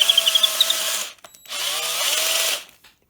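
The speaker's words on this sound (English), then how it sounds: "then we're just going to run the drill" A power drill whines steadily in two runs with a brief pause between, the motor pitch shifting as it bites into a tabletop miniature's base to make a magnet hole.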